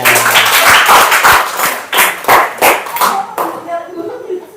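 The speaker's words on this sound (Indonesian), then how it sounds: "tepuk tangan" A small class audience claps hands for a few seconds, a loud burst of close, uneven claps that thins into scattered individual claps and fades out toward the end.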